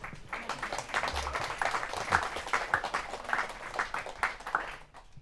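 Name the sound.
wedding guests applauding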